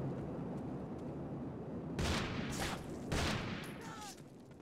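Gunfire aimed at the player in the Half-Life mod Heart of Evil sounds as a steady, muffled roar of distant shooting that swells into a few louder bursts in the second half.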